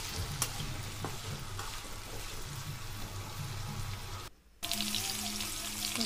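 Potato and carrot fry is stirred in a pan after salt goes in, giving a continuous close sizzle with scraping and stirring noises and a brief pause partway through.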